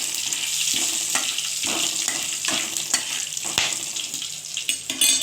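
Green, ripe and dried chillies with panch phoron crackle and sizzle in hot oil, with a continuous loud fry and occasional stirring scrapes and knocks against the pan, and no voices.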